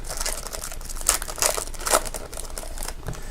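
2018 Topps Stadium Club baseball card packs are torn open close by, with sharp crinkling foil wrappers and several quick ripping bursts, alone without talk.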